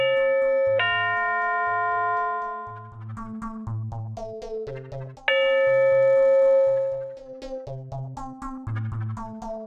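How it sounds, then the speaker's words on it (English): Wireless doorbell chime rings two ding-dong tones, each a clear two-note bell chime that rings out and decays, over a faint repeating electronic tone pattern in the background. "Front door will ding dong and the rear door will ding."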